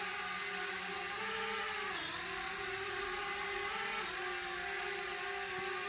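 Eachine E52 selfie drone motors whine steadily at high pitch, dipping and rising in pitch twice as the throttle is varied, close and continuous.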